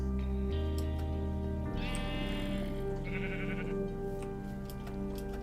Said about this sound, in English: What's a sheep doing in there?